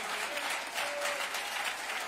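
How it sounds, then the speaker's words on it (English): A church congregation at Sunday morning worship claps as an offering of praise. The dense, even applause continues throughout the moment, with no voices over it. "let's give the Lord a hand clap of praise and magnify Him"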